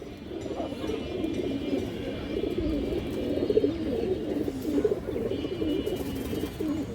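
Pigeons kept by a breeder, including high-flyer birds, coo in soft, low, rolling calls that repeat continuously and overlap at moderate distance, with no talking over them.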